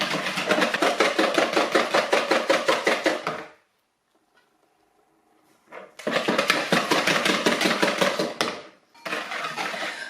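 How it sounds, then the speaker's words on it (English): Rapid, steady tapping and scraping of a utensil beating sugar into muffin mixture in a bowl, with a short pause of near silence before the quick beating resumes. "We've got to just beat this a little bit until the sugar dissolves into the mix."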